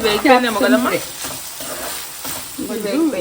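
Chopped capsicum sizzling in oil in a home kitchen pan, stirred with a spoon scraping the metal, steady frying hiss with a voice speaking briefly at the start and end.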